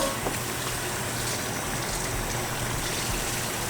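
Steady rushing pour of water into a pan of cooking chicken, continuous and close, with a broad hiss throughout and no talking.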